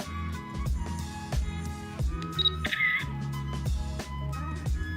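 A few sharp shutter clicks and electronic beeps from a children's camera with no half-press shutter, over a steady musical backing, close and distinct.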